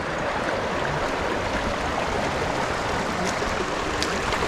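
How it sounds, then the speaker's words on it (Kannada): Water runs down the white travertine terraces and pools of Pamukkale, Turkey, making a steady, fairly loud rushing wash throughout with no voices. "ಮೇಲಿಂದ ನೀರು ಬಂದು ಒಂದೊಂದು ಪಾಂಡ್ ಟೈಪ್ ಫಾರ್ಮ್ ಆಗಿದೆ"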